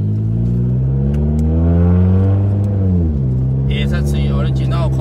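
Turbocharged Toyota Yaris automatic revving up through two or three gears, loud close engine whine climbing in pitch, dropping at a shift and climbing again, with a turbo hiss and flutter near the end.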